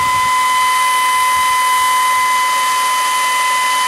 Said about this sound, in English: just take your hair dryer